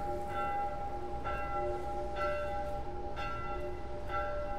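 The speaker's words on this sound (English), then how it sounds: "Why is there so much ding dong going on?" Church bells toll in The Last of Us, four steady strikes about a second apart, each ringing and decaying over a constant low background rumble, fairly distant and soft.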